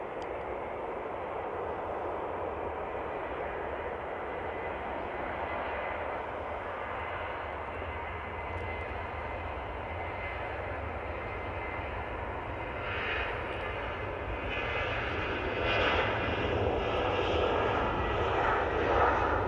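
A Jet2 passenger jet takes off at Manchester Airport, its engines a loud, sustained roar heard from a distance that swells gradually over about twenty seconds, with no talking.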